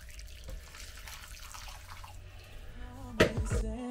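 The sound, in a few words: boiling water poured in for triple layer jelly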